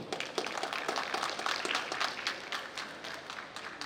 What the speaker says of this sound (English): So a great big round of applause to all of you.